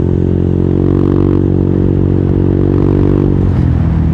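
A motorcycle with a modified exhaust, ridden on an Indonesian road, holds a loud, steady engine drone with stacked harmonics that lifts slightly and then drops off near the end, with wind and road rumble underneath.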